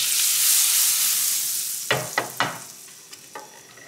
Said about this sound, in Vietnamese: Mình sẽ cho bơ này.